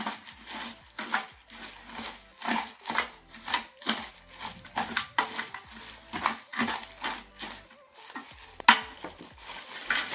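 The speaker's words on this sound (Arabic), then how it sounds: "نخلطو مزيان" A Jawi incense and perfume mixture being stirred by hand, giving steady rhythmic scraping and mixing strokes about twice a second, close and moderately loud, with no talking.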